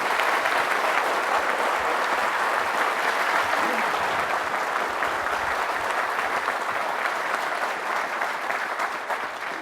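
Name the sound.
audience applause for the Marines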